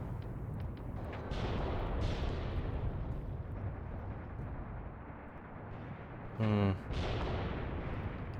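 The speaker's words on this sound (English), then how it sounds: "you could hear the infantry mortar going off" Muffled booms and gunfire from an infantry mortar in the Mius Front WWII game keep rumbling through a busy battle bed, with a sharper close blast near the end.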